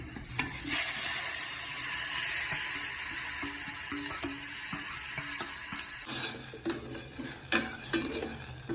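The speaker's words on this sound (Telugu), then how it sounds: "గార్లిక్ ఇలా ఫ్రై అయిన తర్వాత టమాటోస్ యాడ్ చేసేసుకుందాం." Garlic fries in a pan with a bright, steady sizzle, then tomatoes go in and the sound shifts to wetter frying with clattering utensil stirs and scrapes against the pan, close and without speech.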